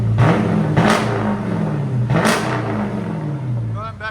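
A Jeep Grand Cherokee 5.7L HEMI V8 revving hard through a Flowmaster, Carven or straight-pipe exhaust, with loud repeated throttle blips that swell and fall back to a rumbling idle, close by.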